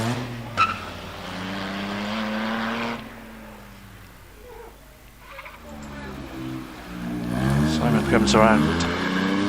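A 3.7 litre Morgan Roadster races up the Prescott hill climb, its engine rising and falling through gear changes, fading off into the distance and then swelling back, while a commentator talks over it throughout.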